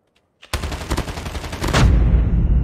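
Rapid automatic gunfire in the mobile video game Call of Duty Mobile, starting abruptly and rattling on loud and dense for about two seconds, then giving way to a heavy rumbling blast.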